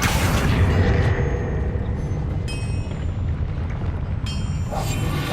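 Spell effects cast in the video game Hogwarts Legacy, dense rumbling whooshes and booms filling the clip with a couple of sharper bursts.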